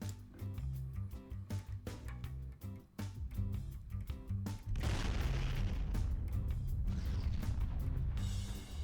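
Bombs explode one after another in a Garry's Mod shockwave test on flat grass, a loud, continuous barrage of deep booms and cracking blasts that swells into a dense, rumbling roar.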